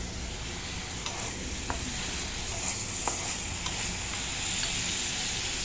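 Broccoli frying in a pan over a high flame, a steady close sizzle with occasional soft stirring clicks and scrapes throughout, no voices.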